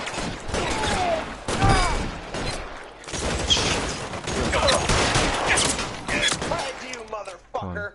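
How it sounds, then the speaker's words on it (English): A shootout in the video game L.A. Noire brings dense, rapid gunfire with repeated cracks and bursts, loud and close, with shouting voices mixed in. "Bit of a shootout."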